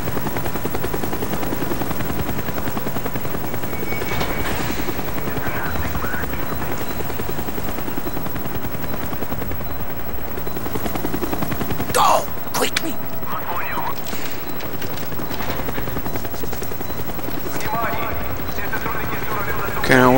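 Helicopter in the Call of Duty Black Ops video game, a steady loud rotor drone running throughout, with scattered sharp game effects and voices talking over it.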